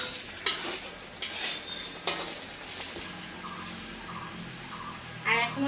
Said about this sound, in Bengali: দেখো মশলাটা কিভাবে ফুটতেছে